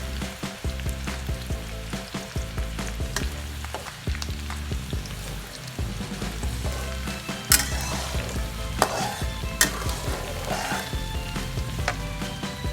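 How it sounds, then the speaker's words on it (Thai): Sliced shallots fry steadily in reused pork oil, a continuous close bubbling sizzle under a low steady hum, with a few sharper crackles and pops toward the end. "ต่อไปเรามาเจียวหอมซอยนะคะ ใช้น้ำมันเดิมค่ะ"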